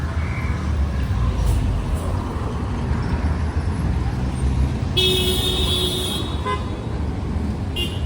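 Rush hour road traffic rumbles along La Avenida Jose Pardo in Miraflores, Lima, a loud steady engine roar with a sustained car horn blast near the end and people talking close by.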